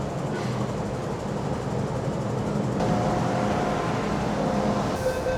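A Hong Kong MTR subway train makes a continuous, close rumbling roar, steady and loud for the whole stretch, with faint tonal whines near the end and no talk.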